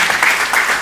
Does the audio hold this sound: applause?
yes